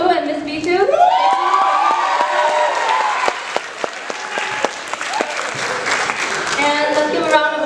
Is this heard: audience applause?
yes